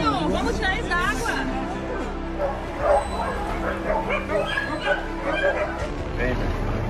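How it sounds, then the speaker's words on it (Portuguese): A small dog barks and yips repeatedly during a flood rescue in Rio Grande do Sul, heard close by amid people chattering and talking. "Cachorrinho, vamos tirar eles da água."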